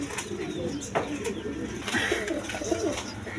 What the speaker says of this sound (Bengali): দর্শকবৃন্দ, এখানে এক পেয়ার 3 পটি লাল গেয়ার ম্যাকপাই আছে, দেখেন ডেনিশেল মডেলের, একদম বিগ সাইজে, একদম বড় সাইজের কবুতর।